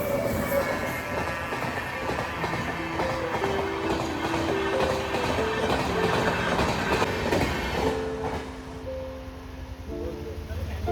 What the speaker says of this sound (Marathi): ट्रेन जाते वाटतं.